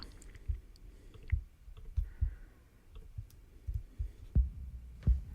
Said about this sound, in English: So yeah, that would be the kick.